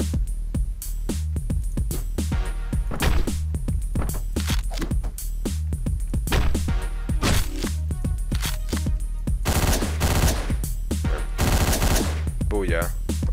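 Rapid gunfire from the top-down action game Hotline Miami, with bursts of sharp, loud shots in quick irregular volleys, some tight repeating strings, continuing throughout over the game's background music.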